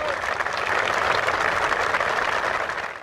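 Football fans applaud steadily at a stadium tribute in Chapecó to players killed in an air crash, the broad crowd clapping holding an even, loud roar throughout.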